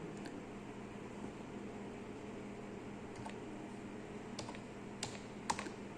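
Faint keyboard typing: a few scattered, soft keystroke clicks over a quiet hum of room noise, sparse and irregular, with no talking.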